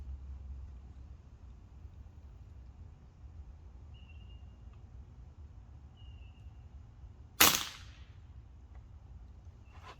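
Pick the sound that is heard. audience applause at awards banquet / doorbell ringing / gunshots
gunshots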